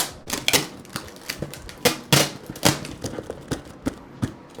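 Sharp, irregular bursts of packing tape being pulled and pressed onto a box in a double layer, close by, with quick crackling rips and thumps and no talking.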